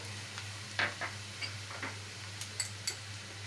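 Faint sizzling and light spattering from chili sauce in a pan over a gas flame, with a few soft clicks and taps over a steady low hum.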